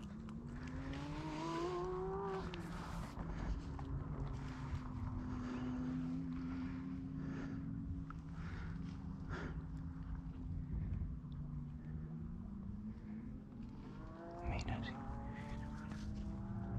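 Distant motorcycle engines whine and drone, rising and falling in pitch as they pass, while voices talk intermittently in the foreground during a rabbit and wood pigeon hunt.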